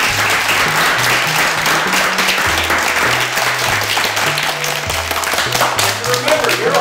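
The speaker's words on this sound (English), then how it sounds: "I want you guys to give yourselves a round of applause" Summer school participants applaud themselves at an art park, sustained group clapping running steadily throughout, with a low melodic tone stepping along underneath.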